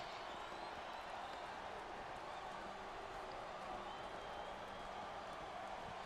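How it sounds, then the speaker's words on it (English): An arena crowd in the video game SvR 2008 produces a continuous, dense roar of cheering and noise that stays level for the whole stretch without pauses. "This capacity crowd is making their opinions heard tonight."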